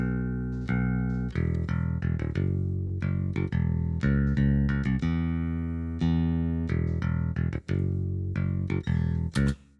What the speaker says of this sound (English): Okay, so that is the bass.